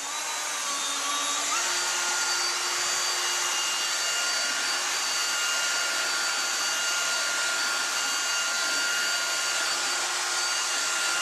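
A power drill fitted with a mixing paddle churns drywall joint compound, a steady close whine that climbs in speed after a couple of seconds and holds there, continuous with no talking.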